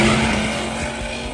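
A drag race car making a pass down the strip at Brown County Dragway, a loud, sustained engine roar with a steady droning tone, slightly fading as the car pulls away.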